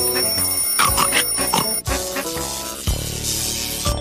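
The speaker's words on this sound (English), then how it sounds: "The alarm clocks were ringing." Cartoon alarm clocks ring in a bright, rapid, bell-like jangle, loud and close, with a second clock or bell joining midway so the ringing layers and continues to the end.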